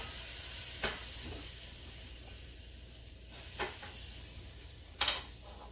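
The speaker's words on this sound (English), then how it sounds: "And you can hear it sizzle." A soft, steady sizzle of pineapple coconut pancake batter frying in a pan, with a few sharp clinks and stirring noises breaking through.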